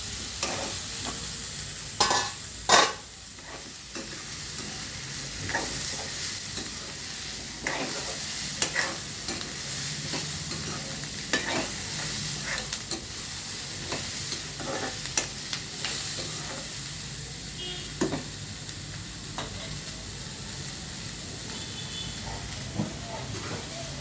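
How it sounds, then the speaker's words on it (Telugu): Drumstick (munagakaya) curry cooking on low flame in a pan, a steady soft sizzle and hiss running throughout with occasional stirring clatters, close and moderately loud. "సిమ్లో పెట్టేస్తాను, మాడకుండా సిమ్లో పెడుతున్నా."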